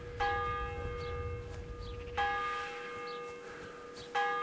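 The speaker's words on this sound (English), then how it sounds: "Bell ringing." In Kingdom Come: Deliverance, a village church bell rings out with three strong strokes roughly two seconds apart, each decaying into a lingering metallic hum over quiet ambient noise.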